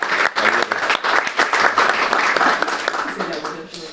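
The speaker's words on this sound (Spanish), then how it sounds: "Un aplauso para Victoria." An audience applauds for a performer at a cultural talk event, a dense sustained wash of clapping that stays loud for several seconds, with a voice speaking over it.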